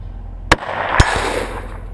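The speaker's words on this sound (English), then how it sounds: "I was gonna say synchronized shot." Two sharp gunshots at an outdoor winter shooting range, loud and close, spaced about half a second apart, each leaving a short echoing tail over steady wind-like background noise.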